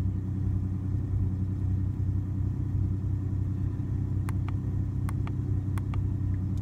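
A car engine idles steadily with a low, even rumble close by, with a few faint clicks near the end and no talking.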